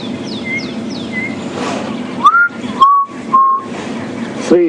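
A chinspot batis, a very small bird, calls on a game reserve in the early morning, giving a series of clear whistled notes: short descending ones first, then longer steady tones, fairly close and distinct.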